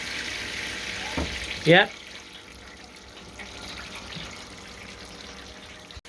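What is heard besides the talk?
sparge water trickling while brewing English IPA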